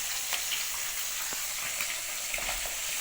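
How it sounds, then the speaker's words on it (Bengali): Fish cooking with eggplant and potato in a home kitchen pan, giving a steady close frying sizzle with faint crackles and a few light stirring taps throughout, no voices. "আমি মাছ বানাচ্ছি, বেগুন দিয়ে আলু দিয়ে মাছটা বানাচ্ছি।"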